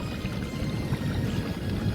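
Fast, strong current rushes steadily at a riverside fishing spot, a continuous close wash of flowing water with no voices.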